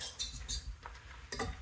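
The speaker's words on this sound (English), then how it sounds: "gonna get this moistened with the whisk" A whisk stirs arrowroot powder into keto batter in a bowl, making a few quick, faint scraping and clinking taps against the sides.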